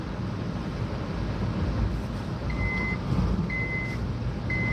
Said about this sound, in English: that's the seatbelt alarm